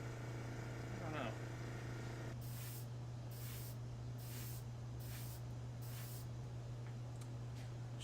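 Clear coat is sprayed from a can onto a model Imperial Probe Droid in short hissing bursts, about five or six evenly spaced puffs close to the mic over a low steady hum.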